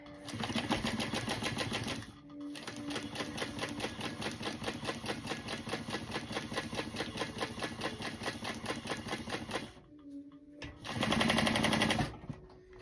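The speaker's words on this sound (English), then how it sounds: "And start stitching." A sewing machine stitches a wallet card slot with a fast, steady mechanical chatter that runs close and loud, pauses briefly twice, then starts again.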